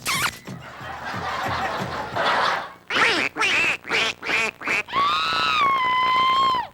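A string of nasal, toy-like duck quacks in quick bursts, followed by a long drawn-out quack, loud and close.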